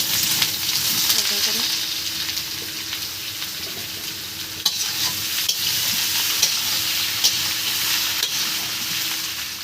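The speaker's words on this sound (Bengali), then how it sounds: "এভাবে হালকা করে ভেজে নিচ্ছি" Food fries in a pan with a steady, close hiss and sizzle, broken by the scrape and clatter of stirring, continuous and fairly loud with no talk over it.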